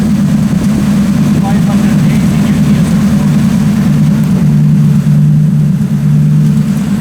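A 1UZ turbo engine in a 200SX on a dyno drones steadily and loudly at full power, with a sustained low engine note holding for several seconds.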